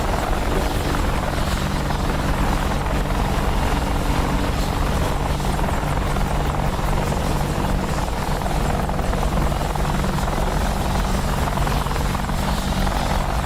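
AH-64 Apache helicopter flying in a flight sim game, its steady loud rotor thump and turbine drone running unbroken and close throughout with no talking over it.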